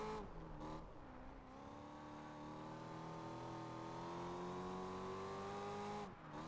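A Corvette Z06 races in Project Gotham Racing 4 with a steady, droning engine note whose pitch climbs slowly as it holds high revs, then dips briefly near the end.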